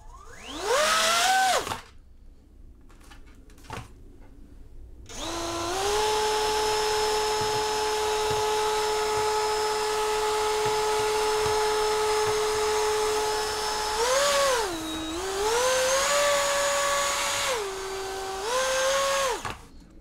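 Small 3D-printed mini hovercraft with its fan motor whining steadily at a high pitch, pitch dipping and rising again as throttle changes, close and loud with no talking.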